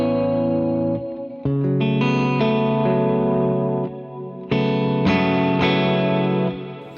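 Electric guitar played through a Black Hole reverb pedal on a shorter setting, sustained chords struck in a few separate strums, each ringing out with a swirling, washed reverb tail, up close with no talking.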